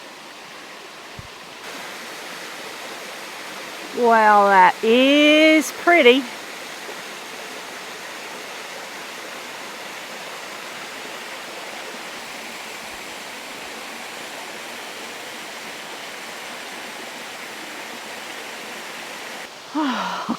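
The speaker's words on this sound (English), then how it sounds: "it is a beautiful waterfall" A waterfall in Litchfield National Park, Northern Territory, pours as a steady, broad roar of rushing water throughout, with a person briefly speaking over it near the start.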